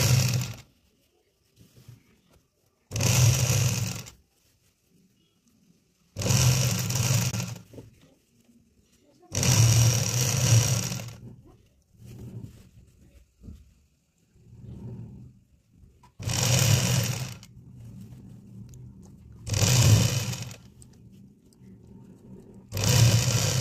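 Sewing machine stitching the fall onto a saree edge in bursts of about two seconds each, separated by short pauses, fairly close and clear with no talk over it.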